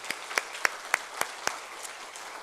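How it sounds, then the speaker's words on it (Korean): Church congregation applause during a Friday worship service, heard as a short series of distinct, evenly spaced claps that fade out toward the end, fairly quiet. "우리 존경하는 마음을 담아서 다시 한번 감사의 박수 드리겠습니다."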